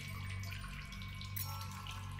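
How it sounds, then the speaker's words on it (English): Water being bottled in the Solus Project video game: a steady, close running-water rush like a tap filling a container, continuous throughout with no talk. "yeah, and I bottled up some water"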